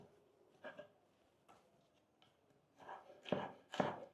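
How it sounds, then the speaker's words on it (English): A knife cuts vegetables into long strips on a board with scattered, sparse chopping taps, a few faint at first and then louder, closer strokes toward the end. "you're going to take your knife and cut them into these long much-like shapes"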